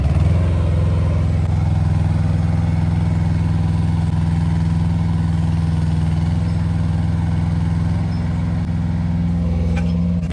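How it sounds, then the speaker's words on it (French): A Kubota mini excavator's engine runs at high revs under lifting load, a steady, loud, close droning roar that holds constant for the whole stretch with no talk. "J'augmente le régime moteur et on voit si elle y arrive ou pas"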